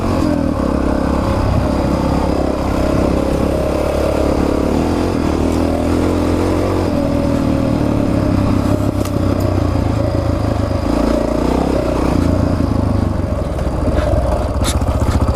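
A Ford Escape driving on icy winter roads, its engine droning steadily and revving up as it gathers speed, loud and continuous throughout with a faint rattle, with no talking.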